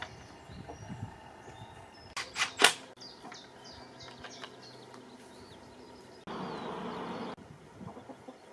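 Backyard chickens cluck and crow outdoors, with a brief louder burst of fowl calls in the middle over steady insect-like ambient noise and a patch of broadband hiss near the end.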